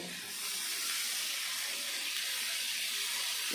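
Water poured into a pan of Bengali mustard bhola fish curry, a steady close hiss and rush of flowing liquid that rises in the first half-second and holds at an even level throughout.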